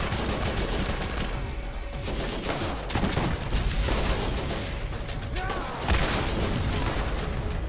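Rapid bursts of turret gunfire rattle through a Borderlands firefight, dense overlapping shots and booms at fairly low level, with a voice talking over parts of it.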